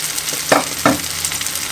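Egg dish with onion cooking under a lid in a pan for an Azerbaijani-style breakfast: a steady close sizzle with a couple of brief louder crackles.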